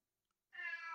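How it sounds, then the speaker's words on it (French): An old cat lets out a single drawn-out meow, close and clear, after a half second of near silence. "Mon chat n'est pas d'accord."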